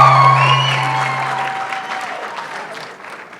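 An audience at a New York film premiere of a documentary claps and cheers, a dense burst of applause that starts loud and gradually thins out, with a sustained tone ringing over the start.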